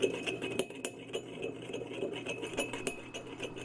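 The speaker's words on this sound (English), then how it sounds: "Give that a little bit of a muddle and a stir." Sugar is muddled and stirred in a glass for a Dorian Grey bourbon cocktail. Quiet, irregular clinks and scrapes of the bar tool against the glass tap along at close range.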